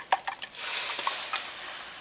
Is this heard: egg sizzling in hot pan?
yes